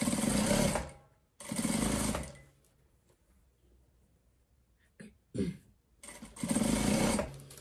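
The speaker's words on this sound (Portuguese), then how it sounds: "Aí, eu vou passar uma costura aqui embaixo, pelo lado do meu peludinho, tá?" A sewing machine stitches a seam on a fleece hooded blanket in loud close bursts: two runs at the start, a quiet gap with a few small clicks and handling noises, then a final run.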